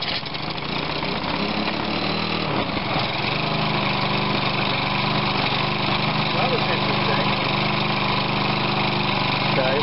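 A Briggs & Stratton OHV small engine with no throttle fitted starts up and runs at a steady, loud, mower-like drone, with faint voices in the background.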